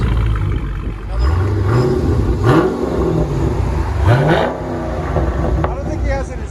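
A Dodge Challenger Scat Pack with its mid mufflers removed revs its V8 exhaust in a few loud, rising blips over a steady rumble, with voices talking nearby.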